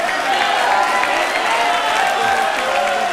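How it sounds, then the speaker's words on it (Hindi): Applause from a large studio audience at a televised Hindi courtroom-style interview show, a steady dense wash of clapping and crowd noise held loud throughout with no breaks. "ताली बजाओ"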